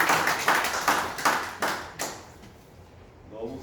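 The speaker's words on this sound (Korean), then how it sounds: "일어서면 박수로 환영해 주십시오." Audience clapping to welcome a city council member at a community meeting on an urban regeneration budget cut, a few close, sharp claps that fade out after about two seconds, followed by a quiet pause.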